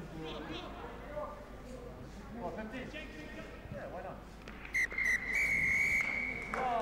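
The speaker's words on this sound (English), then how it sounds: "I think he's blown the whistle here." A referee's full-time whistle at a Dragons XV versus Scarlets A rugby match sounds as a couple of shrill blasts near the end, over steady crowd noise and commentators talking.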